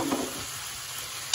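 Eight ounces of Bella mushrooms sizzling in a frying pan right after being thrown in, a steady hissing fry with a brief stirring rustle at the start, close and alone.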